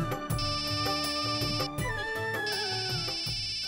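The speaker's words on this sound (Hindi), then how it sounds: "अक्षरा का फोन है।" A mobile phone rings indoors with a bright, melodic electronic ringtone that repeats steadily and loudly throughout, with no one speaking.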